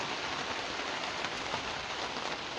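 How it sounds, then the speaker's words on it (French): Steady rain falling outdoors at a straw-bale wall building site, a dense, even hiss of drops with no pauses, moderately faint and heard alone. "Et il pleut une fois de plus."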